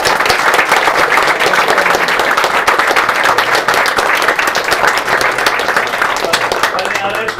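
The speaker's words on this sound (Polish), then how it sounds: "poproszę duże brawa" A crowd at a gaming tournament gives loud, sustained applause, dense and even for several seconds and barely tapering at the end, with a voice faintly mixed in.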